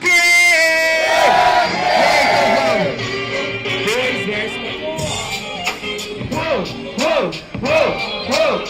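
A crowd at a street rap battle in Itaquera shouts and cheers loudly and continuously, with chants rising and falling throughout and voices yelling over a dense roar.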